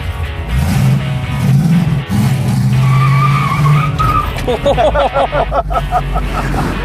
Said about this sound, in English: I always like it when your very first 2 feet of driving a vehicle are burnout